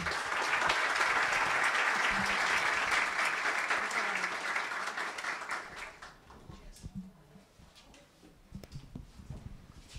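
A crowd applauds loudly for several seconds, then the clapping thins out and fades to a few scattered claps.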